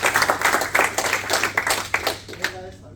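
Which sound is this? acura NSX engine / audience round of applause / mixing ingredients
audience round of applause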